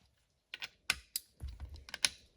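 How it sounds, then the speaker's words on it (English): A tension wrench on a 3-speed T400 automatic transmission under teardown gives a string of sharp, close metallic clicks and ratchet taps in quick irregular bursts, with no talk. "click goes the sound of the tension wrench"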